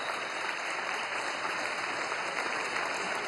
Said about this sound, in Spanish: un aplauso a Cilita